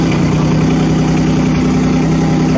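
A digger engine idles steadily and loudly close by, a constant low rumble with no revving and no voices.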